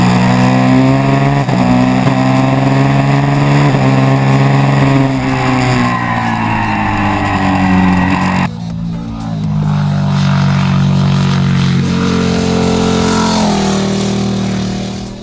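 A KTM RC8 R twin-cylinder race motorcycle roars loudly on a track, its engine note rising and falling through revs, with a brief dip partway through before it pulls hard again.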